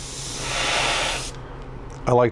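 Spray paint hissing onto the flat hood of a 1/25-scale AMT '62 Thunderbird plastic model, a steady close airy hiss for over a second that cuts off, followed by a brief voice.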